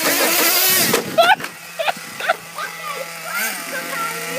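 Petrol remote control car drifting, a buzzing small engine with rising and falling revs heard under loud nearby talking and shouting.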